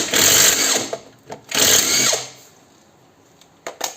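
A power tool loosens a steering ball joint bolt on an Audi A4 B5 with a 16 mm socket. It makes two loud, close whirring bursts of about a second each, followed by a few light clicks.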